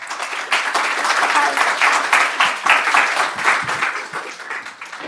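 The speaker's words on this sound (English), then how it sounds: "Big round of applause for Sabrina Zaidan." A conference audience gives a speaker a sustained round of dense applause, loud and close, with a bit of crowd murmur underneath.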